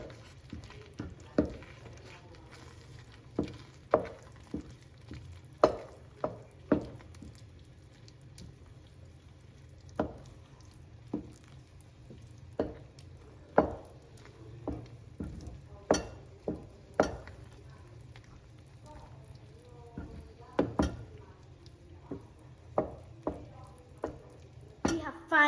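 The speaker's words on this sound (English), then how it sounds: "Now, we can put the butter in and the parmesan, and we can mix very well." Butter and parmesan stirred into a pan of saffron risotto made with vegetable broth, giving soft intermittent spoon scrapes and sticky stirring clicks over a low steady hum, close and fairly quiet.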